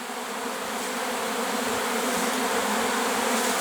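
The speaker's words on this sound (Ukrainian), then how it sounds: "На корпусах сідає рій." A honeybee swarm settling onto dried-out empty hive boxes produces a dense, steady buzzing hum that stays close and unbroken throughout, with no voices.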